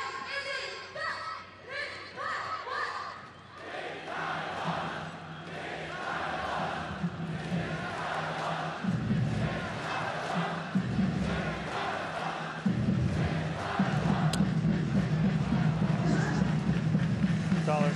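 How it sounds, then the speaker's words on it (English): Baseball stadium crowd cheering during a 2023 World Baseball Classic game between Panama and Chinese Taipei, a sustained roar of many voices that swells louder in surges, with chanting and drumming-like pulses under broadcast commentary. "Crowd starting to get back into it."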